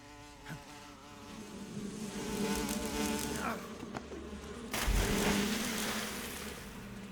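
A swarm of bees buzzing loudly in Metal Gear Solid 3 during the fight with The Pain, a dense droning hum that swells and stays close throughout, with game sounds mixed in.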